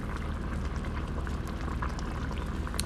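Pasta boiling in a pot of water, a steady dense bubbling roar with scattered pops and splashes, close and continuous throughout.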